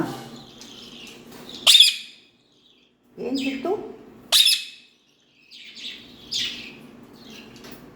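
A pet talking parrot lets out several sharp, loud squawks and chirps in separate bursts, close by, with a person speaking softly between the calls.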